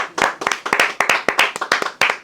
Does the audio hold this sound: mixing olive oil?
no